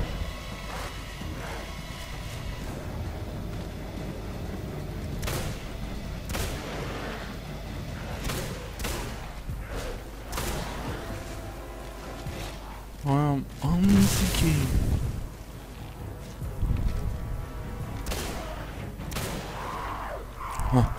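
Cannon fire in the video game Singularity: heavy booming blasts land amid game noise, the loudest cluster arriving late, while someone talks over much of it.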